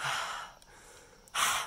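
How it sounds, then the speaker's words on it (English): A person breathes heavily after a gaming session of Cuphead, two loud breathy exhales separated by a quiet pause, close to the microphone. "Why am I breathing hard?"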